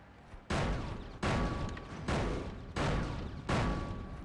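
Heavy robot weapons fire in the War Robots game, a Spectre Storm setup in free-for-all combat, sounding as five loud, evenly spaced booming volleys, each a sharp onset followed by a rumbling decay.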